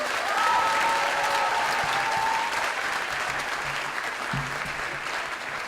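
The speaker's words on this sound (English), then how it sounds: "Please, a round of applause for them." Sustained audience applause at a benefit concert in a school setting, a full round of clapping that swells early then holds steady before slowly tapering, with a faint voice briefly heard over it.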